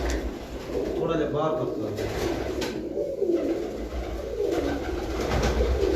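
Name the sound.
pigeon number 35 cooing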